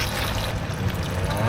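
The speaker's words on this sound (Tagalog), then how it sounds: "Lagyan ko lang ng konting tubig ito." A little water poured into pork mechado simmering in tomato sauce, a short steady splashing trickle lasting about a second and a half, close and fairly loud.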